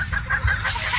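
Several short, uneven clucks from a chicken, a 3/4 Sweater, 1/4 Boston gamefowl on a game farm in Batangas, fairly close and moderately loud, over a busy background.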